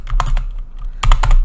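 Typing on a computer keyboard: two quick bursts of close, crisp key clicks separated by a short pause, with no voice present.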